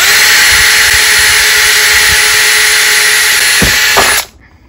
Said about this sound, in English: I'm going to go ahead and I'm going to drill my holes